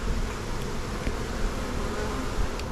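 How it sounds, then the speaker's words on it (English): Honey bees swarm densely around a hive, a loud, continuous close-up buzz with no break and no voices over it. "Oh yeah, lots of bees here."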